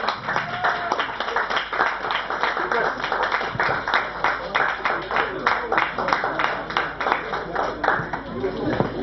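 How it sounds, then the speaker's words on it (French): An audience applauds steadily throughout a wine competition prize ceremony, with dense, continuous clapping and a voice talking over it. "Merci de les applaudir."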